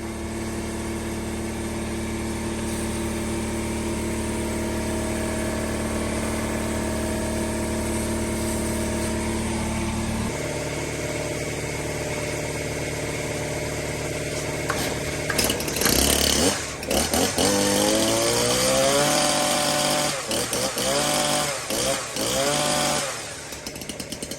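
An air compressor runs nearby in a workshop with a steady, loud mechanical hum; about halfway through the tone shifts and lowers, then irregular clattering and wavering noises join in toward the end.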